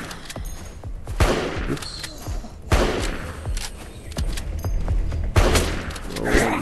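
Bursts of gunfire in the survival shooter LifeAfter, rapid shots with heavy thumps that come in clusters, loud and close over a steady game background, with a brief spoken exclamation.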